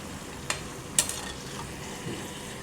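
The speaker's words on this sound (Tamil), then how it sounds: "இதை எண்ணெயில் பொரிச்சு எடுக்கலாம்." Oil sizzles quietly at a low, steady level over medium heat as somas sweets deep-fry, with a couple of sharp clicks from a utensil near the start.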